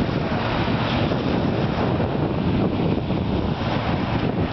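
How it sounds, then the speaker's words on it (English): Ocean waves wash steadily at a beach, a broad continuous roar of surf mixed with heavy wind buffeting the microphone throughout, with no talk. "Those waves a little big."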